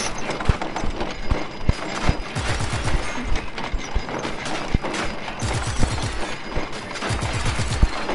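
Gunfire in Just Cause 3 as rebels are shot: irregular sharp shots and short rattling bursts over a steady busy game background, fairly loud and continuous, with no talking.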